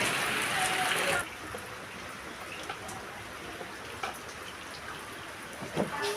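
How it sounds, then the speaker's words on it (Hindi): Steady rain falling outdoors, a continuous close hiss of drops hitting surfaces, louder for the first second and then settling into an even wash with a few sharper drips scattered through it. "बारिश जो है वो मुसलसल हो रही है"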